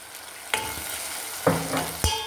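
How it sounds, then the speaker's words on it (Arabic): Red pepper frying with tomatoes in a pan for Tunisian mechouia, a steady sizzle broken by three sharp scraping stirs of a utensil, close and loud with no voices. "انا باش نطوح ونحطوا الفلفل الاحمر"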